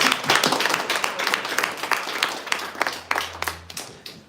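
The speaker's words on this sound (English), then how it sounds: "Give her a round of applause." Audience applause at an AI and biological sciences talk, a fairly brief burst of scattered hand clapping from a moderate-sized crowd with no voices over it.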